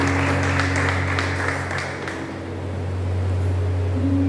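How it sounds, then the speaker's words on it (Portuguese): A church congregation claps together during a Portuguese-language service, with dense applause over a steady background hum that fades briefly midway and then swells again. "As palmas do meu Senhor."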